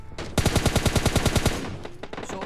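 Rapid automatic gunfire in the PUBG Lite video game: one loud, close burst of about a dozen evenly spaced shots, followed by a few scattered trailing sounds.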